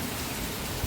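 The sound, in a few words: heavy rain falling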